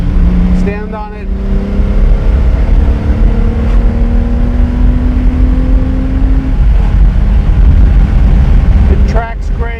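A 1970 Ferrari 365 GT 2+2 with a V12 engine accelerates hard in third gear, its steady rising drone heard from inside the car and continuous throughout, with someone talking over it.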